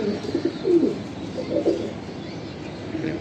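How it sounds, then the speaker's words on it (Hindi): Soft, low coos from a high-flyer pigeon repeat a few times at close range over a quiet background hum. "ये देखिए ये पल्ला परवाज़ी कबूतर है उस्ताद के"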